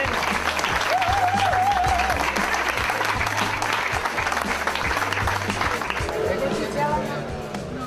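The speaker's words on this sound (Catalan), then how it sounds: "necessito gent aplaudint ara," A crowd at a fundraising rally claps in sustained, dense applause that holds steady and fades slightly toward the end, with voices talking over it.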